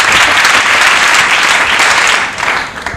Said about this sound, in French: Quelle émotion sous les applaudissements du public.